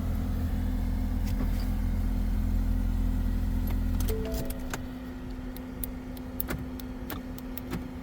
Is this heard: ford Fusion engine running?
yes